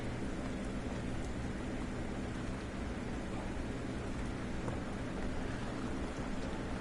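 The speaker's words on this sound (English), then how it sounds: "Yeah, super rainy." Steady rainfall in a Sherlock Holmes video game, a continuous soft hiss of rain with faint low rumbles like distant thunder, even and unbroken throughout.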